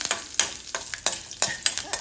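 A pan of tempering with curry leaves frying hard, close sizzle broken by rhythmic scraping strokes of a spoon stirring every half second or so, with no one talking.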